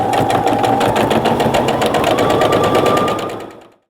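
A sewing machine runs steadily at close range while stitching a French seam on a fabric pillowcase, its needle clattering in a fast, even rhythm for about three seconds before slowing to a stop.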